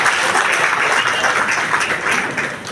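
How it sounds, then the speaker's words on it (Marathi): An audience at a school reunion for a 1983 graduating class bursts into steady, dense applause, many hands clapping together close by for a few seconds with no talk over it. "त्याबद्दल जोरदार टाळ्या वाजवूया आपल्यासाठी।"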